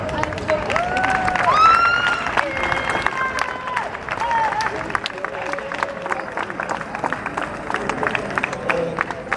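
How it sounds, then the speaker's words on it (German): A solidarity rally crowd applauds and cheers outdoors, with continuous clapping mixed with raised voices and whistling tones, lively throughout. "Applaus für dich."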